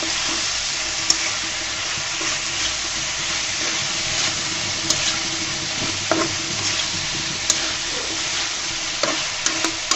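Spices are stirred into eggplant frying in oil over lowered heat, an even close sizzle with scraping spoon strokes and occasional clicks of utensil against the pan.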